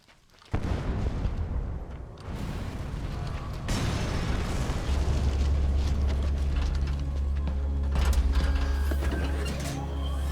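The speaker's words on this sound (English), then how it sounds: "Secure the area before you detonate the C4." C4 charge set off on an oil separator tank in Metal Gear Solid V, a sudden loud blast followed by a sustained deep rumbling roar and mechanical clatter that build through the rest of the scene.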